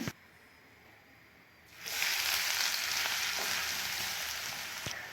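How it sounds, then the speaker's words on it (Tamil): Elephant yam chips deep-fry in hot oil, starting after a quiet moment with a few faint clicks and then swelling into a loud, steady, close bubbling sizzle that carries on to the end. "அதை வந்து நான் எடுத்துகிட்டு நெக்ஸ்ட் பேட்ச் இதே போல் பொரிச்சு எடுத்துக்கிறேன்."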